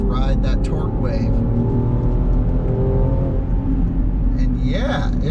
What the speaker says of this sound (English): you can just put your foot down like that and just ride that torque wave